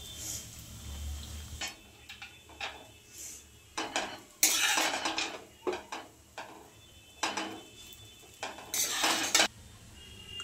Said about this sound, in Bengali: এবার আমি চাউমিনটা দিয়ে দেব।